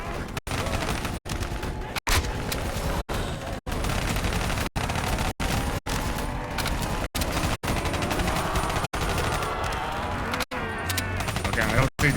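SMG fire in Call of Duty Black Ops 3 zombies mode rattles in dense, rapid bursts almost without break, loud and close, with a person speaking over the shooting.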